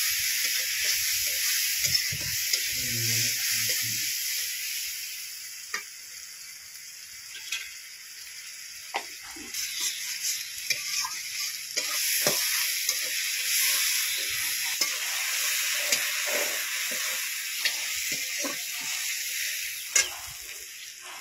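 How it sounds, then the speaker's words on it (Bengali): Wild nat bene greens from the Sundarbans fry in a pan with salt, turmeric and chili powder, a steady close sizzle broken by scraping stirs and clinks of a spatula, with no talking. "দিয়ে খুব সুন্দর করে নেড়ে চেড়ে নিয়ে কিছুক্ষণ ভেজে নিয়েছি।"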